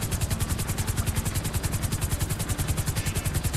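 A helicopter in the video game GTA Online flies with a steady, rapid rotor chop, a loud and close rhythmic thudding that stays constant throughout.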